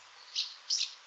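Two short, high-pitched cries from a barn swallow come from a played recording, the first a quick chirp and the second a slightly longer double note, over a soft steady hiss.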